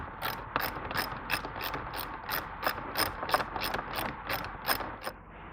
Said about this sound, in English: remove these two screws here, which have a 7mm hex head.